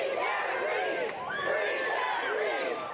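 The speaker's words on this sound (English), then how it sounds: "She was met with a crowd of cheers from her supporters" Supporters gather outside a courtroom after a murder trial verdict, their crowd cheering and shouting in a loud, continuous roar with overlapping voices that swell and dip throughout.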